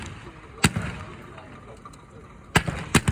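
Sharp gunfire bursts from a WWI tank battle reenactment, with a British Mark IV and Renault FT-17 in action: one loud crack near the start, then two more close together near the end, over a steady outdoor rumble.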